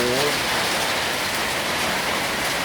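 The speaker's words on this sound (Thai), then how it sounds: "ฝนกำลังตกเลยนะครับ" Heavy rain pours steadily outside a house in Isan, northeastern Thailand, a dense continuous hiss close by with no breaks, loud and unbroken for the whole stretch.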